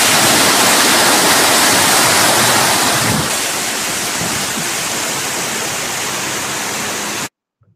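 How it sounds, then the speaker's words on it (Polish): A flushing wave rushes through a retention reservoir, a loud, steady broadband roar of surging water that eases slightly partway through, then cuts off abruptly near the end. "następuje wytworzenie fali płuczącej."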